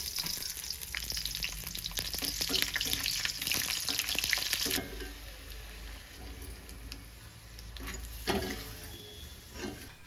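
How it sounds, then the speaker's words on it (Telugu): Buttermilk chillies frying in hot oil in a pan for tempering dal, a steady close sizzle and crackle that drops to a softer hiss partway through, with faint stirring clinks. "నేను ముందుగా మజ్జిగ మిరపకాయలు వేయించుకున్నాను"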